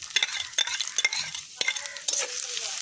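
Bay leaf and cumin frying in hot oil for a Bengali potato and egg fry, a steady sizzle broken by quick stirring scrapes and clinks, close and fairly loud with no talk.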